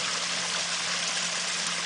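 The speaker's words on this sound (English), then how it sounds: "The water goes in, down through a basket that skims off the big stuff, and it goes up a pipe" Water rushing steadily through a pond skimmer basket in a backyard water garden, a constant close trickling flow over a low mechanical hum from the pump.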